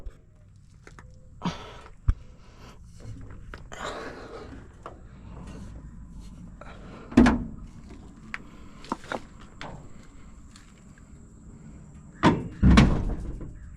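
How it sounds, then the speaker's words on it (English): The cab of an International COE truck is lowered, with a series of scattered metallic clunks and thuds, two heavier bangs as it settles, over a low background hum. No talking. "I'm going to lower the cab"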